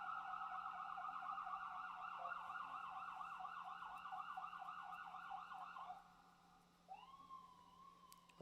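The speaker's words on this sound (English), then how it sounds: "Sorry about the sirens, guys." Emergency vehicle sirens passing outside, a wailing siren cycling steadily and fairly loud, then cutting out before a second rising siren tone starts up, with no talk.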